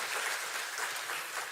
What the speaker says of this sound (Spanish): Dale un fuerte aplauso a nuestro Señor